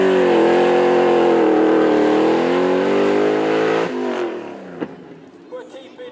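A supercar with a 5-litre Mercedes V8 roars loudly past at a car show, its engine note held steady then dropping away as it passes, with crowd chatter and a few sharp knocks behind.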